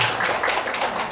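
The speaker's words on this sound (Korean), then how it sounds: "주님께 영광의 박수 드리겠습니다" A church congregation applauds during a Sunday service: a short, dense burst of many hands clapping, fairly loud and steady throughout.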